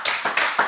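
A church congregation claps together in praise, four quick loud claps in a steady rhythm, close and crisp.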